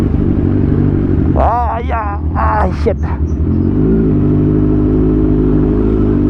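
A loud, steady motorcycle engine drones close by throughout near a hanging bridge in Calumpang, Laguna, with a person speaking briefly over the rumble.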